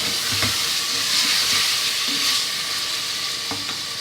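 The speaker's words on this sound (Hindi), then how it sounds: "इसको भी अदरक लहसुन के साथ भून लेंगे।" Steady, loud sizzling of meat frying in a pan with ginger garlic paste, with occasional scraping from stirring.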